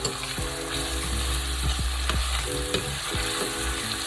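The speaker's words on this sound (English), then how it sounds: "Just the onions and peppers cooking." Onions and peppers fry in a pan with a steady, close sizzle, broken by several short scrapes and knocks of a utensil stirring the vegetables.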